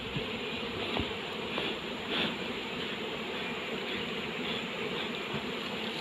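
Apis mellifera honey bees hum at their hive in a steady, dense, continuous drone with a few nearer buzzes passing close, and no voices.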